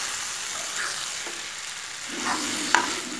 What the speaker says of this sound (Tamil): சேர்த்துட்டு நல்லா மிக்ஸ் பண்ணி விடுறோம்